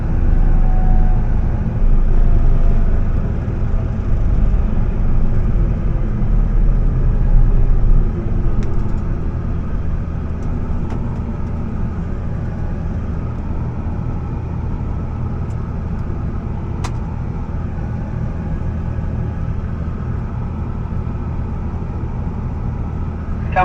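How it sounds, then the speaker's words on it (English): Inside the cab of a combine harvester driving on the road, a loud, constant low engine rumble and drone continues throughout, with faint clicks and rattles over it. "when I'm going with the combine here, I prefer vehicles coming from the rear"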